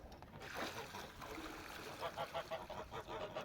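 Water splashes and gushes steadily as it is poured from a bucket into a small homemade pond, a continuous rushing pour with light splattering, close by.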